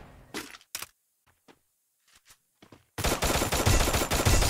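Gunfire in the battle royale game Free Fire: a few sharp shots with gaps of near silence, then a loud dense burst of rapid automatic fire close up.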